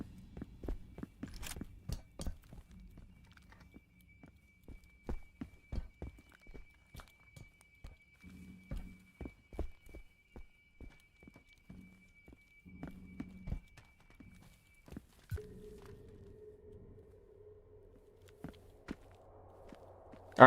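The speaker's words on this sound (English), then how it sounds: "Dude, I'm hearing footsteps." Footsteps in the horror game Transience, a string of hard irregular thumps and taps that speed up and slow down, with a low ambient drone and tone underneath.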